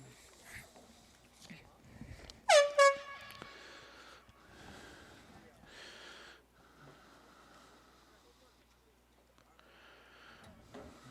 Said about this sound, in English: that air horn signaling the end of the first quarter